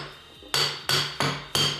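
A hammer taps on a turbocharger housing during a rebuild: four sharp metallic strikes, close and loud, each ringing briefly before the next.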